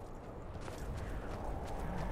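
Horse hooves clip-clop in the video game Skyrim, a soft, evenly paced series of muffled hoof beats heard close and fairly quiet, with no speech.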